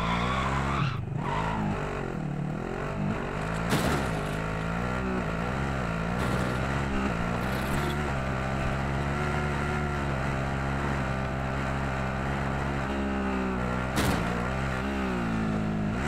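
Vehicle engine in Call of Duty, a steady loud motor drone with shifting pitch as it drives, continuous throughout with brief louder surges, no talk over it.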